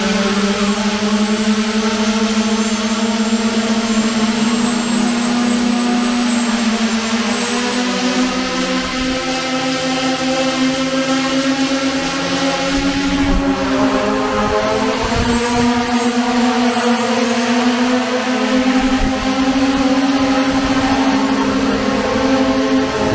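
A homemade turbojet engine runs continuously, a loud sustained roar with a strong whining tone that rises and falls in pitch across the run, heard alone without talk.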